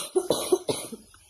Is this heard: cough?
yes